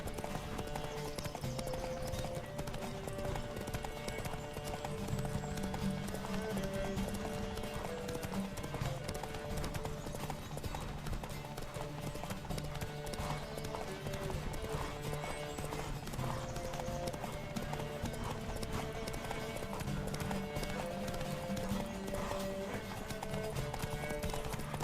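Rapid hoofbeats of a galloping horse in The Witcher 3: Wild Hunt drum on steadily over a continuous game soundtrack, with brief shouts now and then.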